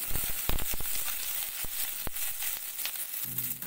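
Chopped cauliflower frying in a kadhai for Bengali khichdi, a loud steady sizzle of hot oil with scraping stirs and clinks close by.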